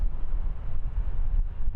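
Strong wind at Frankfurt Main Airport buffets the microphone with a low, rumbling roar that gusts and pulses continuously, with no voices.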